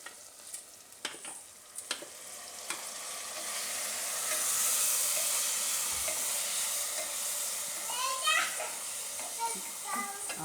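Washed khichdi tipped into a hot pan with chili flakes and green coriander, sizzling steadily while a spoon scrapes and stirs, with a few sharp clinks and a voice in the background.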